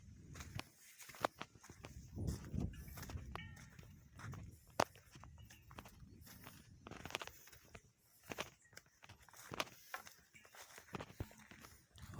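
Irregular hoof clops and shuffling steps of cows and buffaloes walking out to graze, fairly close, with scattered knocks and low rustling throughout.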